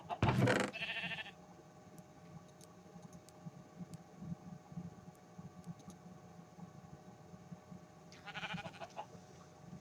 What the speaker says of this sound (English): Sheep, sheep, please.